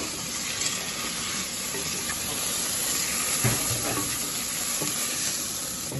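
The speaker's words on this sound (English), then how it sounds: "add the pine nuts, as they don't need long at all, just to toast the pine nuts" Pine nuts and mushrooms toast in a pan on a lowered hob with a steady soft sizzle, while a spoon stirs through them and scrapes the pan now and then, close and moderately loud, with no talking.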